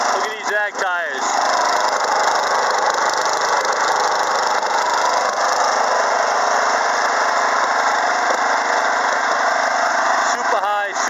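A 1989 Wheel Horse 414-8 garden tractor with a 48-inch deck mows tall, wet grass on a hillside in high range, second gear, its engine droning loud and steady close by throughout, with someone talking over it.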